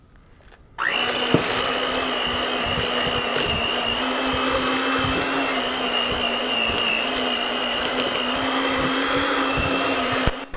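An electric mixer beats chocolate chip cookie dough for soft cookies. It starts after a short quiet moment and then runs as a loud, steady motor whine close by, with faint knocks against the bowl.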